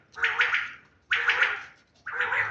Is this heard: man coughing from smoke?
no